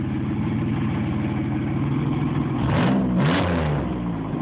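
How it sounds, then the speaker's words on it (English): A car engine runs loudly close by, then revs twice in quick succession near the end, with rising and falling pitch before settling back toward idle. "Rev it up real quick."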